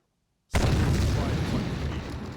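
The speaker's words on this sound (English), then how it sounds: "Something just exploded" An explosion in the Terminator: Dark Fate - Defiance video game bursts in sharply after a moment of silence, then holds as a loud, dense roaring rumble with no talk.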